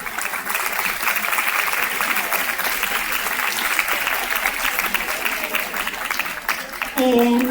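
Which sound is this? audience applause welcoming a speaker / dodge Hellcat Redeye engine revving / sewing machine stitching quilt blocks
audience applause welcoming a speaker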